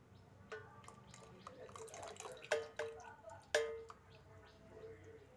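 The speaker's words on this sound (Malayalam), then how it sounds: "തേങ്ങാപ്പാലും കൂടി ഒഴിക്കാം" Coconut milk trickles and drips into a pot of nombu kanji, the rice gruel, with soft splashes and a few sharper drops, quiet and close.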